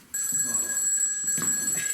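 A telephone rings close and steady, a continuous electronic bell tone that carries through the whole moment, with faint voices murmuring underneath.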